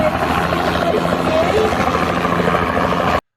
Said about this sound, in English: As the helicopter lifted off